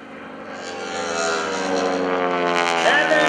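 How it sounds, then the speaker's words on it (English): An aerobatic airplane at the Greenwood Lake airshow in 2013, its propeller giving a loud, harmonic rasping drone that swells and holds steady as the plane climbs into the vertical. "Once again, you hear that rapping propeller."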